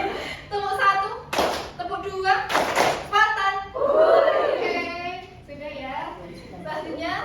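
Children in a classroom clapping game clap in short, sharp group bursts, a couple of distinct claps between spoken prompts from a teacher and children's voices, close and loud.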